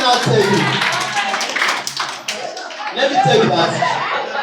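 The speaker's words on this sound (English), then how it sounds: "Let's clap for those that are shy now." A school audience at a college event claps together in a brief burst of applause that rises over a voice and then trails off as talk continues.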